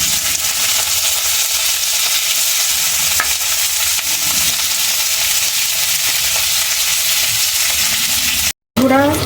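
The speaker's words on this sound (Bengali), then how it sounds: "এবার ভাজবো ক্যাপসিকাম" Capsicum pieces fry in a pan of hot oil with a continuous loud, close sizzle and occasional stirring clicks, running for several seconds before a short cut and a brief resumption.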